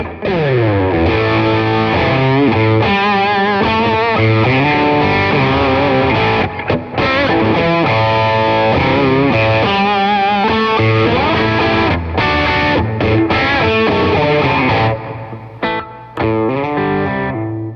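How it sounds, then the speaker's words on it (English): Electric guitar through a Fender MTG Vacuum Tube Distortion pedal plays loud, continuous, saturated chords and sustained notes that ring on without a break, with no voices. "That was the MTG Vacuum Tube Distortion pedal."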